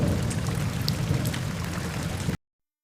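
Heavy rain pours down in a dense, steady hiss and patter, loud and unbroken for a couple of seconds before cutting off abruptly.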